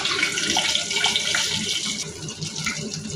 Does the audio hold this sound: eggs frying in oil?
yes